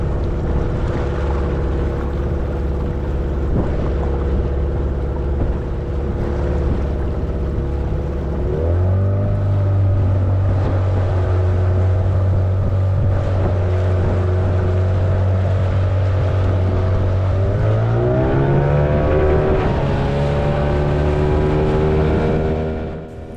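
A sailboat's dinghy outboard motor drones steadily and loud as the small boat heads across the water toward the city center, its pitch stepping up twice as the throttle is opened.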